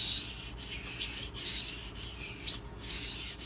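A Spyderco Endura 4 Wharncliffe knife blade is drawn across a 1000-grit sharpening stone in repeated steady strokes, an even scraping rasp with brief pauses between passes, close and alone.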